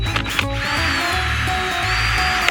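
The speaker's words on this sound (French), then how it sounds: "J'ai trouvé la plus longue mèche pour couper un trou à l'intérieur de la bûche." A drill with a very long bit boring into a wooden log, cutting a hole through its centre. The motor whines steadily and loudly up close after a few brief starts, with grinding chatter underneath.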